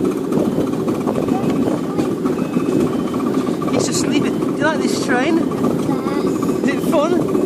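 A miniature train ride at Cinderbarrow, Carnforth, gives a steady, loud rumbling engine drone throughout, with children and adults talking over it.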